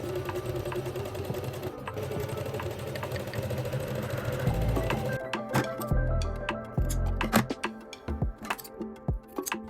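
A sewing machine stitches the front crotch seam of wide-leg pleated pants, first a continuous close whir, then short start-stop bursts with clinks and thumps near the end, with no talking.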